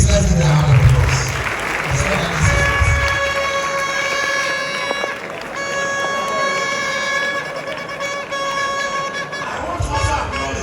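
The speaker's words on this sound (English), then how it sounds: "Please let's give her a round of applause." Audience clapping at a political lecture on a 24-hour economy in Ghana, sustained applause throughout with a steady musical tone running underneath and crowd noise mixed in.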